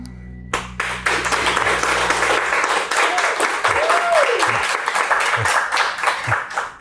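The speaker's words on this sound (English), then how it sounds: "We don't normally get applause like that when we finish a model." Sustained applause from a crowd at Legoland California right after a builder finishes a Lego model, dense clapping rolling steadily for several seconds with a few voices calling out underneath.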